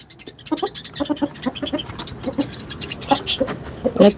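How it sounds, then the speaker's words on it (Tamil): A native hen on a Chennai rooftop coop clucks repeatedly while settling down to lay an egg, a close run of short, uneven clucks growing busier toward the end, with faint background voice. "இப்போ இங்கே ஒரு கோழி வந்து முட்டை போடுறதுக்காக ரொம்ப நேரமாக"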